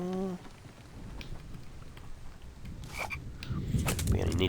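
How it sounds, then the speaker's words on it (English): Frogs croak in a video game's ambient soundscape, with a short run of repeated croaks at the start, then faint scattered calls under a steady background of footsteps and game noise. "It's not a bad thing having these frogs in the game. They add some ambient sounds"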